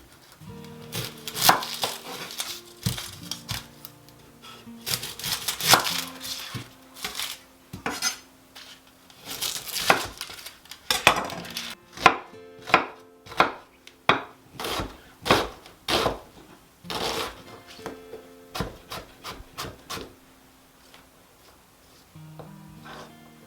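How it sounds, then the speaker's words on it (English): A knife dicing an onion on a cutting board, with many sharp, close chopping knocks that come in rapid runs and irregular clusters over a long stretch, with a few pauses and scraping sounds between them. "the first thing I'm going to do is dice up an onion"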